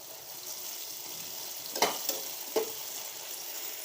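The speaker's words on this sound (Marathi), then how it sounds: "मी जोपर्यंत असं गाळा होत नाही ना टमाटर तोपर्यंत असंच परतत राहणार आहे ते सम कांदा पण भाजून निघतोय" Tomatoes and onion sauté in hot oil in a pan, a steady close sizzle with a few louder scraping stirs of the spoon, no voices.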